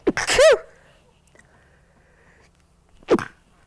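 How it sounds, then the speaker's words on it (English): A single sharp sneeze rings out close by, followed by quiet and then a short voiced exclamation. "I'm going to sneeze again."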